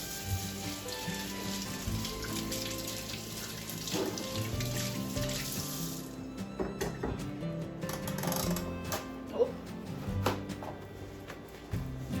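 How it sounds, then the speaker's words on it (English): A kitchen tap runs while hands are washed under it, giving a soft, continuous splashing and trickling with small clinks and irregular spatters, fairly quiet throughout. "Miss Katie is going to turn on the tap here now and wash her hands"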